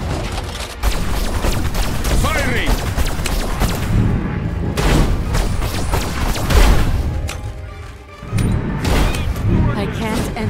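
Repeated gunfire and blasts crack and boom through a firefight in Destroy All Humans 2: Reprobed, loud and dense throughout, with voices talking over the shooting.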